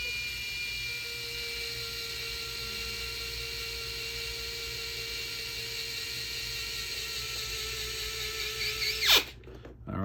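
A power driver spins a bolt into a CEN Racing F450 RC truck part with a steady high whine lasting about nine seconds, then a brief strained rise as the bolt snugs up before the motor cuts off.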